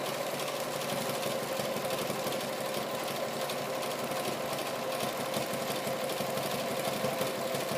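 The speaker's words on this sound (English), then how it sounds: "So now I'm going to zigzag stitch that center seam." A sewing machine zigzag stitches the center seam of a strip tote bag, running in one continuous, steady mechanical whir from start to finish at close range with no talking.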